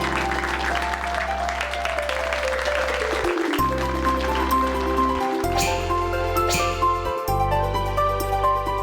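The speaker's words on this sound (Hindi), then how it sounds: "जोरदार तालियां वेदांती के लिए।" Audience applause for a contestant on a children's TV talent stage, steady clapping running throughout under loud music with sustained tones.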